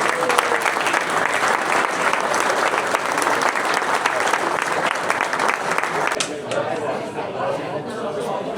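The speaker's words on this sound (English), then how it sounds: "can we give a big round of applause for everybody who's entered the show" Crowd applause for entrants at a custom scooter show at Burton, a loud, steady clatter of many hands clapping that eases off toward the end as it fades under background noise.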